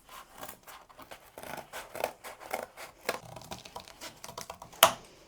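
Scissors cutting through material for a crocheted gift box ornament, a run of quick close snips and rustles ending in a sharper click.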